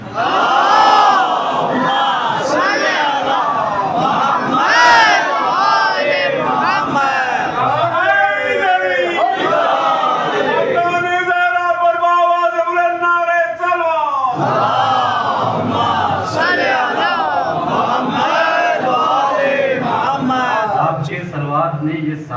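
A large mosque congregation at a Shia majlis for the martyrdom of Ali ibn Abi Talib loudly reciting salawat in unison, a massed chanting roar that swells into a sustained collective call before fading back into crowd voices.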